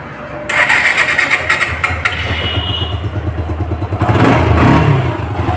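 A Suzuki Gixxer naked motorcycle with about 3,015 km on it, in like-new condition, cranks and fires up after a short pause, then settles into a steady, close, pulsing idle with a brief rise in revs near the end.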